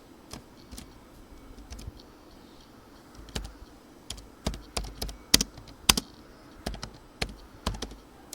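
Keys on a computer keyboard clack as Python code is typed, sparse at first, then a quicker run of crisp taps, close and fairly quiet with no talking.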